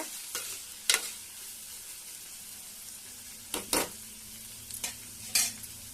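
Tomatoes sizzle softly in a pan for a brinjal and potato curry, with a quiet steady frying hiss broken by several sharp scrapes and clinks of a utensil stirring, close and alone.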